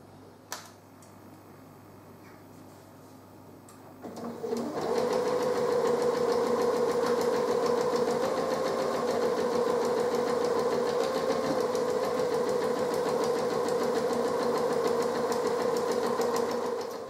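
After a few seconds of near silence, a sewing machine starts and runs steadily along the edge of a leather bag, a close, even mechanical whir with a fast rhythmic needle chatter that continues to the end.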